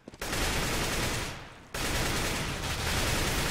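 Dense automatic gunfire from a CS:GO match on a catwalk, loud and sustained bursts with a brief dip in the middle before the fusillade resumes.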